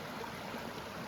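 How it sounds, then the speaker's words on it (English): Water pours steadily over the Bronte waterfall near Bronte Bridge, a close, continuous broadband rush with no pauses and no voices. "waterfall"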